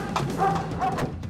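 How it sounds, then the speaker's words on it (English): A police dog at an arrest scene gives a few sharp barks and yips in quick succession, close and loud against background noise. "The dog unit has just arrived on the scene."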